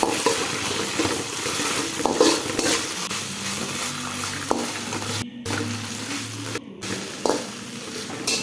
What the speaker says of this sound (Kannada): ಚೆನ್ನಾಗಿ ಫ್ರೈ ಆಗ್ತಾ ಇದೆ ನೋಡಿ